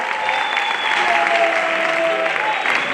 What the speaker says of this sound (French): On aimerait que vos applaudissements soient à la taille de cette prestation